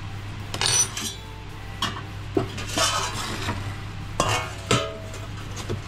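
A jelly fruit cake is cut and served with a spoon, village-style, giving scattered clinks and scrapes of utensil against dish in short bursts over a steady low hum, with no talking.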